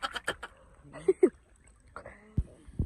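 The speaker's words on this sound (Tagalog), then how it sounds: "Ang ganda ng mga huni ng mga ibon." Birds call in short bursts near the microphone at a farm camping site in Norzagaray, Bulacan, with quacking and honking waterfowl cries, brief voices and splashy noises in between.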